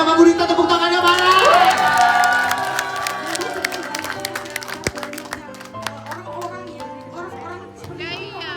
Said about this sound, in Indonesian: Yang setuju sama Bu Dita tepuk tangannya mana?